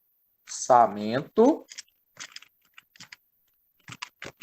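Clicky computer keys tapped in short bursts and single presses, close and distinct, after a stretch of someone talking at the start.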